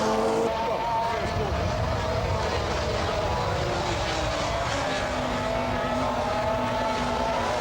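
Racing motorcycle engine at Donington Park in 1985, heard onboard from a helmet camera: a loud continuous roar with shifting pitch as revs rise and fall, steady throughout with a commentator's voice over it.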